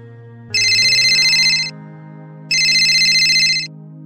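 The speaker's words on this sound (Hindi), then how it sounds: "अरे ये महेश भाई का फोन कैसे आ रहा है?" A mobile phone rings for an incoming call, two identical bright electronic tone bursts about a second long, loud and close, over a faint steady background drone.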